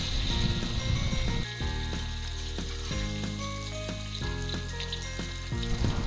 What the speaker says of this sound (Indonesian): kita panaskan wajan yang udah ada minyaknya dan kita tumis sambal tempenya